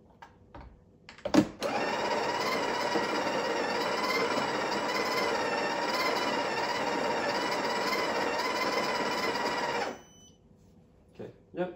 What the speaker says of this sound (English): we might need to grind a bit more